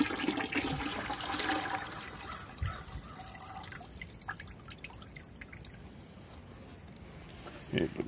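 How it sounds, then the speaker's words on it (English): Diluted muriatic acid in water gets poured into a bucket of water while cleaning a pool salt cell, a splashing, gurgling pour that fades into trickles and drips, with a brief splash at the end. "we're going to dump it into our bucket with water"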